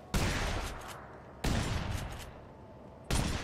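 Three gunshots in the video game The Saboteur, each a sharp loud blast with a trailing decay, spaced about one and a half seconds apart, with no talking.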